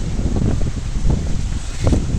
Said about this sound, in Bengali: ইস, ঠান্ডা হাওয়া, ওরে বাপরে।